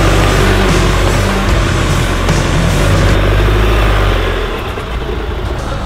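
A pickup truck in two-wheel drive revs loudly while trying to climb a backyard hill, its engine droning continuously close up with wavering pitch, easing slightly toward the end.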